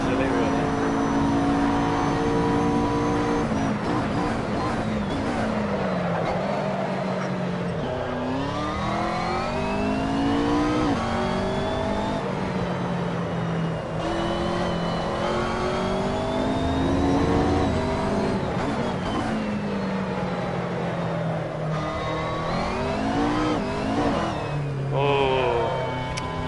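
A race car engine in Assetto Corsa roars loud and close, climbing repeatedly through the revs with sharp gear changes and drops in pitch, driven without traction control, while someone talks at times.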